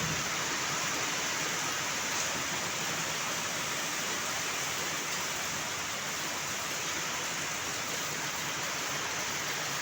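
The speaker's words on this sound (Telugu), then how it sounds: "చూడండి వర్షము ఎంత గట్టిగా బాదుతుంది." Heavy rain pours steadily over an open campus, a dense, even wash of noise with no breaks, moderately loud and continuous.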